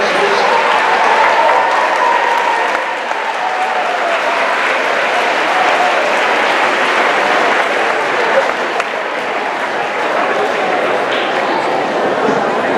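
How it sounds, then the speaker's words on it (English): Students at a middle school promotion ceremony give parents and guardians a sustained round of applause, dense crowd clapping filling the hall at steady volume with some voices mixed in. "please stand so their students can give you a round of applause"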